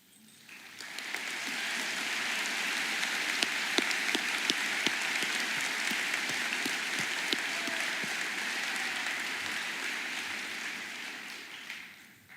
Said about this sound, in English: I invite all award winners and scholarship recipients from the class of 2023 who were recognized at that May 10th ceremony held at the middle school to rise for a round of applause